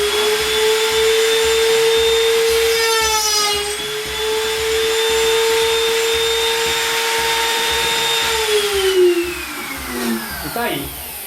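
Wood router clamped to a workbench runs at a steady high whine, a loud continuous motor tone that shifts pitch briefly mid-way and winds down near the end, during a fine depth adjustment.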